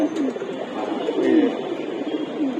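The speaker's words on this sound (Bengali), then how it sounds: "অনেকক্ষণ পর একটা খরা গলা কবুতর দেখতেছি" Low, throaty pigeon coos rolling on continuously nearby, several racing pigeons overlapping in a steady murmuring chorus.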